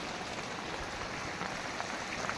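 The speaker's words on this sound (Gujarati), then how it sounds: "જો આ વરસાદ પડે છે અત્યારે." Rain falls at night during a thunderstorm, a steady, dense hiss of drops with no voices and a few slightly louder patters near the end.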